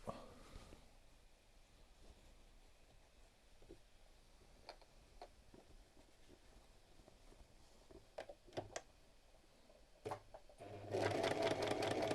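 A sewing machine runs a long stitch during tailoring work, a faint steady hum with sparse ticks, then turning loud and fast for the final second.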